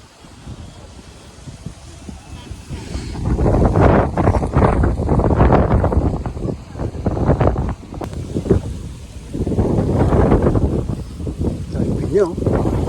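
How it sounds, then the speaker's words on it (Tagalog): Strong wind buffets the microphone in loud, rumbling gusts that rise and fall, with people talking outdoors underneath, at a windmill farm in Rizal, Philippines. "malakas ang hangin eh."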